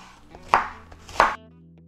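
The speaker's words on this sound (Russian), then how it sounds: "Капусту надо тоненько нашинковать." A knife thinly shreds cabbage on a cutting board, giving two sharp, close chops about half a second apart with soft slicing between them and no talk.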